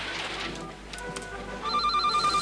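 A telephone rings in an office during a radio broadcast, with a steady electronic ring tone entering about two-thirds of the way through over a busy background murmur.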